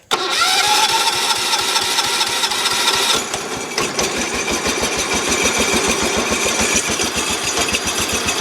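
A Massey Ferguson 1200 lawn tractor engine cranks and fires up, then settles into a loud, steady rapid chugging run, with the choke not hooked up.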